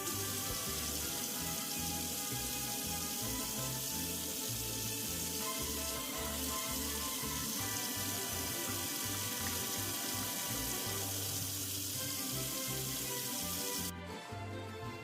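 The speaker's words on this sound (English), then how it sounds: "Make sure to rinse the flower petals in order to remove any dirt in case there is any on it." Hibiscus (Jamaica) flower petals rinsed under a running tap, a steady, full splash of water that carries on unbroken before cutting off abruptly near the end.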